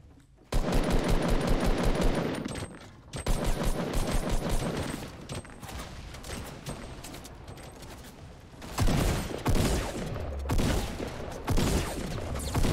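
Rapid bursts of gunfire in a Fortnite match, loud repeated volleys with brief gaps between them, a long burst up front and more rattling fire later, with no talk heard.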